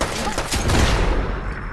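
Gunfire in a Thai-played commando shooting game, a dense burst of rapid shots that fills the brief moment, loud and close, with no voices.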